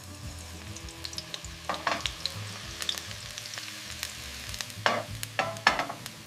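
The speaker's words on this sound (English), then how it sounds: "A little oil on high heat. Frying the rest of our garlic." Garlic fries in oil on high heat, sizzling and crackling steadily in a hot pan, with a few louder bursts and scraping stirs, no voices.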